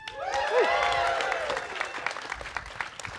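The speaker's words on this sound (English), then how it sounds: "Let's get a little cheering." A studio talk show audience claps and cheers in a dense burst of applause that gradually thins out, with a whistle near the start, heard fairly close.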